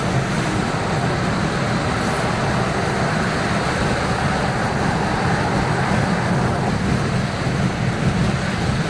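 Steady broadband road roar and wind rush from a car cruising at 71 mph on a three-lane motorway near Cumbernauld, Glasgow, running on winter tyres with a puncture, continuous and fairly loud throughout with no talk.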